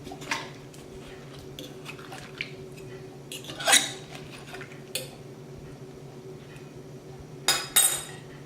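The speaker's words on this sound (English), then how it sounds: "place it in my crock pot" Pork roast being placed into a crock pot in a home kitchen, with several scattered clinks and knocks of dishes and utensils against a steady low hum.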